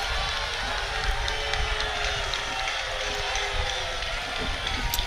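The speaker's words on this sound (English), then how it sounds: "Not sure why they're booing." A baseball crowd at a 3A high school region final booing, a broad steady roar of voices carrying across the field with some faint speech mixed in.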